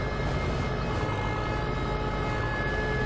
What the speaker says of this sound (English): They are still working on their sirens.